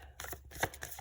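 Quick, close riffling and slapping of tarot cards being shuffled, a few brisk bursts in about a second.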